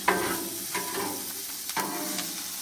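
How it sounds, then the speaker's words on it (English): Fajitas with onions and peppers sizzle on an outdoor griddle by a lake, a steady close hiss broken by spatula scrapes and stirring. "we are outside griddling the fajitas"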